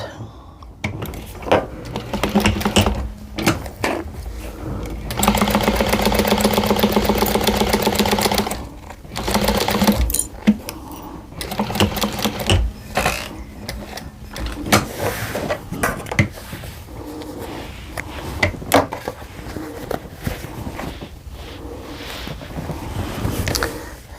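Embroidery sewing machine stitching a spring hexagon table runner, running in bursts of steady whirring that stop and restart, loudest in a sustained stretch near the start, with other handling noises between runs.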